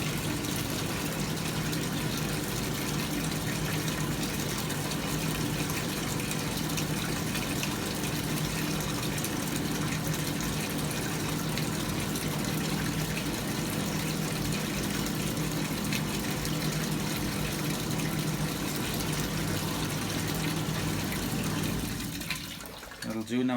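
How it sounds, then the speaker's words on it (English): A Hotpoint Supermatic Deluxe S9414 twin tub washing machine circulates hot water through its drum, a continuous loud churning gush of water with pump hum that stops abruptly at the very end. "That's just going to circulate hot water through it."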